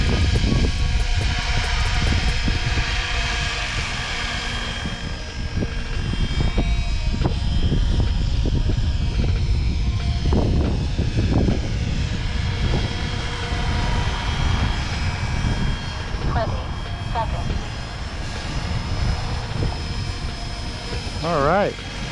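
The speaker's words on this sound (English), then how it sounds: "flying the heli" A SAB Raw 700 RC helicopter flies nearby on a training flight, its rotor and motor making a loud, continuous buzzing drone that shifts in pitch as it maneuvers, with someone talking at times over it.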